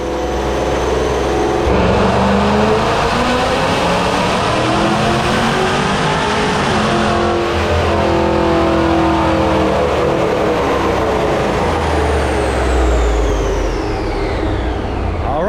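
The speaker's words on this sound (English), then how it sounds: "we're gonna run a couple nitrous pulls" Car engine strapped to a dynamometer roars through a sustained nitrous pull, loud and continuous with rising, sweeping harmonics, then easing off near the end; no talking over it.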